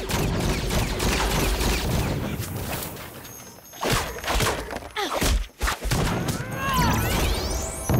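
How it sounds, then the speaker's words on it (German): Machine gun fire in the video game Disney Infinity 3.0 arrives as rapid crashing bursts amid dense, busy game effects, loud and close with a few sharp impacts. "Hier, Maschinengewehr, zack."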